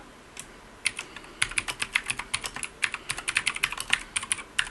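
Someone types a domain admin password on a computer keyboard, a quick run of close, crisp key clicks in irregular bursts after a brief pause, with no talk.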